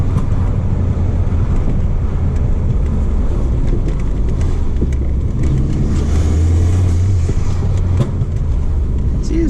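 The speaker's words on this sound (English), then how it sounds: "This car gets up and goes." A car, a Mk4, pulls hard as its engine revs and accelerates, with a steady loud engine roar and road noise running throughout, close and continuous.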